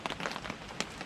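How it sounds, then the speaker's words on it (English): Rain falls steadily outside a truck camper in Shenandoah, a dense patter of drops drumming on the surface with a few louder splats, close and continuous with no voices. "Some rain"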